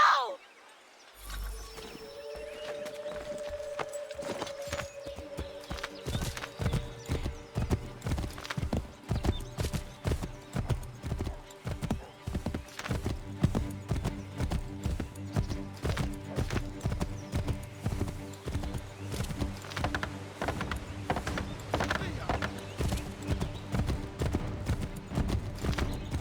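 Horse hooves clip-clop steadily at a galloping pace in the forest of Assassin's Creed 3, with a brief neigh near the start and a music score running underneath throughout.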